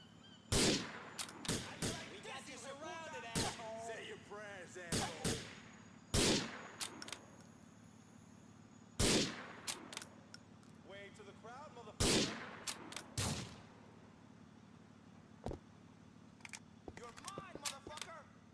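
Sniper rifle shots in Grand Theft Auto IV, a series of sharp, loud single cracks spaced a few seconds apart, some in quick pairs, over a low steady background hum, with faint voices between shots.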